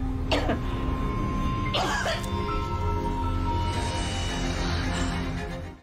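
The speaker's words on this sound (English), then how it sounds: "suddenly felt dizzy and coughed up blood" Coughing from a woman who suddenly felt dizzy while working at a hospital, two harsh bursts a little apart against a continuous background, with no speech.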